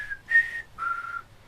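A person whistles a tune in two phrases, with a brief pause between them, clear and fairly close, no talking.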